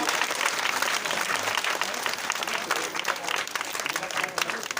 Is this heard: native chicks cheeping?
no